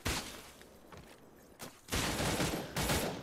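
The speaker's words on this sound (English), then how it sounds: "he's shooting at me" Gunfire in the Cyber Hunter video game, short loud bursts of shots in quick succession separated by brief pauses, close and harsh, with no talking.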